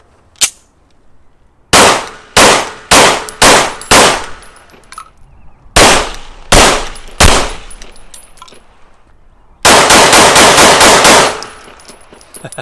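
Loud, sharp gunshots from a Lone Wolf LTD19 pistol at an outdoor range: a handful of single shots, a pause, three more, then a rapid string of about eight quick rounds, each ringing briefly before fading.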